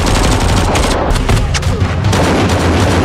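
Gunfire erupts in a film shootout, a dense burst of rapid overlapping shots and bangs, loud and close, continuing without pause across the moment.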